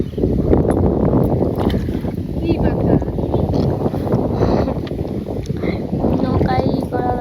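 Strong wind blows over the water near a village boat, a constant loud rushing buffet across the microphone, with faint voices mixed in.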